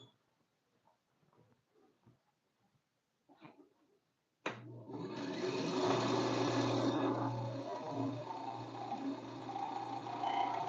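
A bandsaw starts abruptly and runs steadily through wood, a loud sustained whine with a low hum and dense rasping texture that continues to the end after a few seconds of quiet handling noise.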